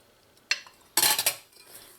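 A utensil stirs onions and tomatoes in a pot, making one sharp clink and then a longer burst of scraping and clattering against the metal, close and brief, with quiet pauses around it.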